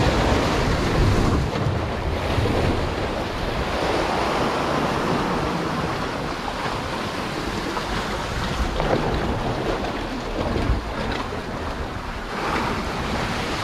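Ocean waves break against a rocky fishing spot, a loud continuous roar of surf with swelling rushes and heavy wind buffeting the microphone, no voices.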